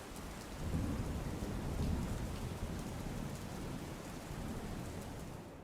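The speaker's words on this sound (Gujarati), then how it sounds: "બોટાદ જિલ્લામાં સતત 2 દિવસથી વરસાદ વરસી રહ્યો છે" Heavy rain in Botad district with thunder, a dense steady roar of rainfall and a low rolling rumble swelling in the first seconds, fairly faint overall, no voices.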